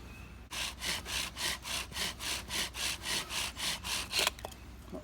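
Steady rhythmic rasping strokes of a privet wood bow drill spindle spinning on a round wooden fireboard, about a dozen even back-and-forth passes, close and continuous.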